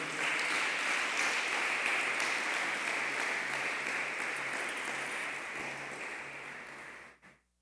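A church congregation applauds, sustained dense clapping filling a room, holding steady for several seconds before tapering and stopping abruptly.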